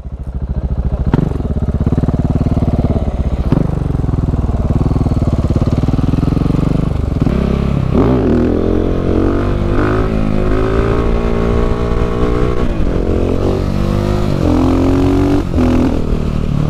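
A moped engine revs hard and loud for the whole stretch, its pitch climbing and dipping as the throttle is worked, with a few sharp clattering knocks along the way.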